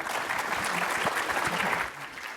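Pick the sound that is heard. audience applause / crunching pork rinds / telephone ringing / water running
audience applause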